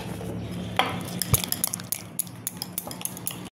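A metal spoon scrapes and clinks in a pan as cumin and coriander powder are mixed into hilsa polau, a close series of quick taps and stirring scrapes that ends abruptly.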